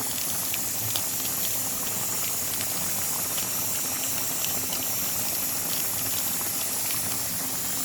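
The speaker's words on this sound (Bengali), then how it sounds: "আর এদিকে আমি প্রেশারে ডিমটা সেদ্ধ হতে বসেছি, ভারী সাউন্ডটা পাচ্ছেন আপনারা" Eggs boiling in a pressure cooker, a loud, steady bubbling roar with continuous hiss of steam, close and unbroken throughout, with no talking.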